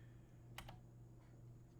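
A cat walks across a computer keyboard, setting off a few faint, scattered key clicks in brief clusters against a steady low hum.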